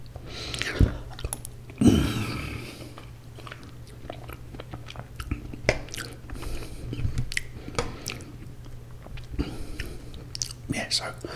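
Close, crisp biting and chewing of breakfast food, with a few louder crunches early on and steady soft mouth sounds under quiet whispered talk.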